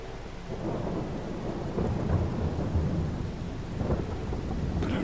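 Rain and rolling thunder in Farming Simulator 22, a steady hiss of rainfall under low rumbling thunder that swells about halfway through and again near the end.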